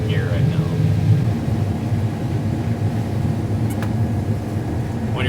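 Combine harvester moving through a corn field in second gear, a steady low engine and machinery drone, loud and continuous throughout, with faint higher whines near the start and end.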